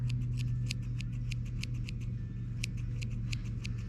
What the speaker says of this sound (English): I was worried about the scissors near the face